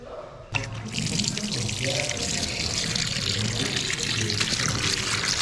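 Water runs steadily from a tap into a sink for washing, a constant close splashing rush that begins with a sharp onset, with some talk faintly beneath it.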